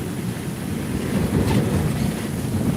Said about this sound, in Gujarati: આ લેલન ગાડી છે જોઈ લ્યો